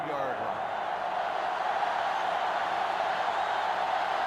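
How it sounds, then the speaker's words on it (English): A sellout stadium crowd roars in the video game NCAA Football 2005, making a dense, steady wash of loud noise that stays unbroken throughout. "This sellout crowd is really making a difference now as these guys can't even call the play"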